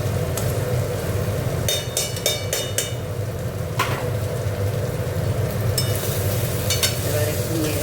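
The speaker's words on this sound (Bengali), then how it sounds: "এবার একটু নেড়ে দেবো।" Cabbage frying in ghee in a pan while being stirred, giving a steady close sizzle with scraping and clinking strokes of a spoon against the pan.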